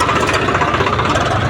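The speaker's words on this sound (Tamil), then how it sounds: "ப்ளூ டிராக்டர் போச்சு, அது நல்லா ஒதுங்கி போகுது." A blue tractor's engine chugs steadily at a medium pitch, running evenly and fairly close with a slight knocking vibration, and no one speaks.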